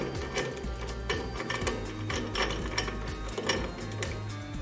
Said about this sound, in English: The Jacob's chuck can then be done up tight